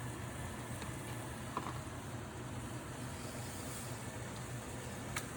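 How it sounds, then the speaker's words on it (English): A spicy-sweet sauce simmers toward a boil in a pan, giving a faint, steady bubbling sizzle with a few small ticks and pops, close but quiet and without talk. "Starting to come to a boil."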